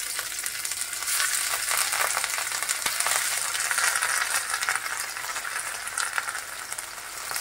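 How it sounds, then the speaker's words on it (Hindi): Masala-coated rohu fish pieces fry in hot oil, giving a dense, even crackling sizzle that holds steady and close, with an occasional faint tap. "फिश को फ्राई कर लेंगे हम एक तरफ से 3 से 4 मिनट के लिए"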